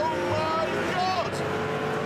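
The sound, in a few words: V12 sports car engine accelerating quickly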